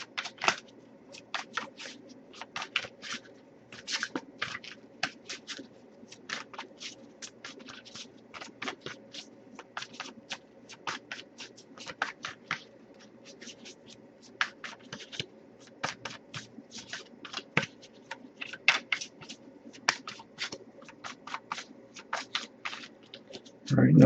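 Rapid, papery riffling and flicking of tarot cards being shuffled, repeated in quick bursts over a soft background hum, with faint talk at times.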